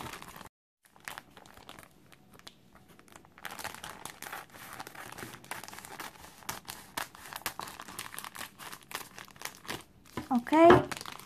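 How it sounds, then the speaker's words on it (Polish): The plastic wrapping of a 2017 Panini Smurfs sticker album is opened, with steady close crinkling and crackling of the plastic and a louder tearing burst near the end, while someone speaks over it. "Zacznę może od albumu, od otwarcia go, ponieważ jestem bardzo ciekawa, jak on wygląda w środku."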